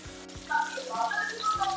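Drumstick stems sizzle in a pan for a Bengali spicy stir-fry, a close, steady frying hiss with light crackles and a couple of low thumps.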